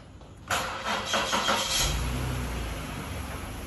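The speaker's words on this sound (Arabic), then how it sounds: "من ضربة السلف الأولى اشتغلت السيارة" A car engine cranks briefly and catches, started from a portable 20,000 mAh power bank jump starter, then settles into a steady, fairly loud idle with no talking.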